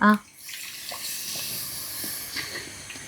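Water is poured into a pan of Kerala fish curry, a steady soft hissing splash that follows a brief clatter at the start and continues evenly.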